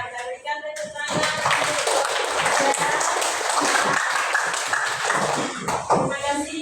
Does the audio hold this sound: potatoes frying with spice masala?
no